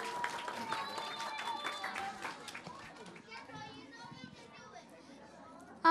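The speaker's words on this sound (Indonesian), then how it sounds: "tepuk tangannya lagi dong." Applause from a children's audience at a kids' Christmas event: faint scattered clapping mixed with children's chatter and crowd noise, followed by a brief loud burst at the very end.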